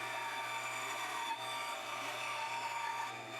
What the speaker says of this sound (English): bring it over to the bandsaw rather than use the jigsaw to cut out the semicircles